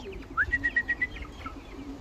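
Racing pigeons returning to their loft in a headwind give soft repeated cooing calls, a short rising note followed by a quick series of evenly spaced coos, close by over low background rustle.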